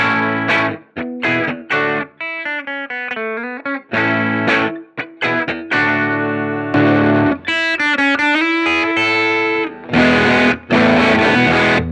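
Electric guitar through a Strymon Iridium amp modeler with no boost, played alone in loud, driven chords and short riffs, with crisp stops between phrases and sustained ringing notes near the end.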